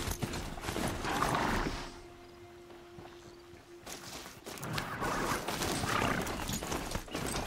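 A rider on a machine mount in the video game Horizon Zero Dawn, with rhythmic hoof-like clopping and mechanical clanks, a steady gait that pauses briefly in the middle before resuming.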